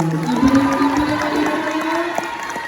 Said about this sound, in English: Let's give an applause to them.